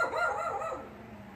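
A single dog bark rings out briefly and fades, alone with no talk.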